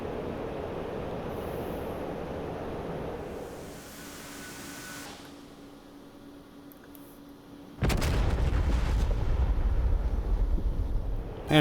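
Bomb explosions from the DCS F-15E Strike Eagle flight sim: steady engine hum, then a loud broad blast with a sustained heavy rumble that continues to the end.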